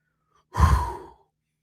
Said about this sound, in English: Take a breath. Inhale. Exhale.